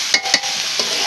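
Chopped food cooking in a pan at home, a loud, steady sizzle broken by a few quick stirring scrapes.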